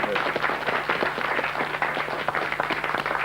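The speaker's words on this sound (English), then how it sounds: "give them a round of applause" A studio audience applauding on a TV quiz show, a dense, even patter of many hands clapping at moderate volume, sustained without a break.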